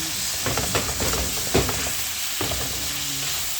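Baguio green beans sauté in a hot pan with a loud, steady sizzle, broken by several scraping stirs and clinks of the utensil.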